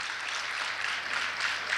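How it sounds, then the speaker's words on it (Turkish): An audience at a book-fair author talk in Aksaray claps steadily, a dense, even wash of applause throughout. "Alkışlayan elleriniz dert görmesin."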